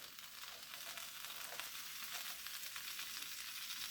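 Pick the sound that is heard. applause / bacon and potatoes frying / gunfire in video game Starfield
bacon and potatoes frying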